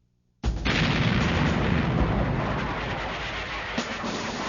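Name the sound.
battleship guns shelling Iwo Jima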